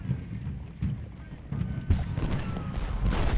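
Horses galloping in the video game Ultimate General Gettysburg, a jumble of pounding hooves over rumbling battlefield noise that builds in loudness.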